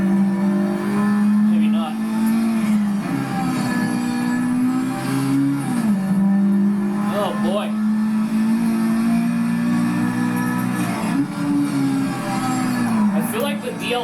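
A Toyota AE86 Sprinter Trueno engine in Project Cars 3 drones loud and steady with rising and falling revs and short gear-change dips, while someone talks briefly over it.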